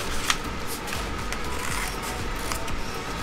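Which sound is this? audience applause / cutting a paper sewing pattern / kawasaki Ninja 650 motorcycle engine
cutting a paper sewing pattern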